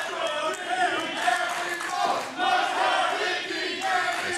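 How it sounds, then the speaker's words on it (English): Wrestling crowd at a women's wrestling event roars and cheers continuously, a dense wall of shouting voices that swells and dips, with one brief lull midway before rising again. "There's a crowd going again"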